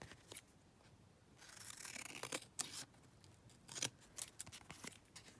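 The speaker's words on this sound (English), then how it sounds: "So we'll just go in and trim around that now to get our journaling card." Scissors snip around a paper journaling card in short, close, quiet cuts, irregular single snips and brief runs separated by pauses.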